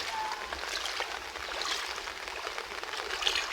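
Floodwater from rain pours and rushes past in a steady, broad wash, continuous and fairly close, with no talk over it.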